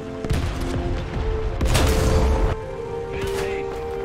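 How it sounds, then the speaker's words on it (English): A tank shell striking the side of a King Tiger's turret in War Thunder gives a loud booming impact with a metallic crash, set among other distant explosions and the low rumble of engines. "See, I knew you'd shoot the side of the turret"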